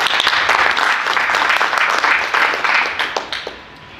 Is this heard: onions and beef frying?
no